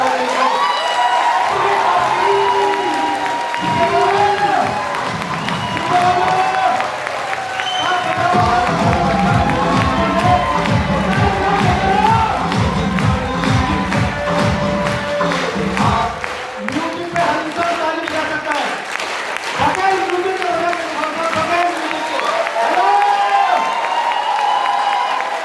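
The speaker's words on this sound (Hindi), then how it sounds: "ऐसी ताली बजाएं कि पैसे की बीमारी जिंदगी से दूर हो जाए" A seminar audience in Greater Noida applauds and cheers for a long stretch, with a rhythmic patch of clapping in the middle. The crowd noise is dense and steady, and voices are mixed into it throughout.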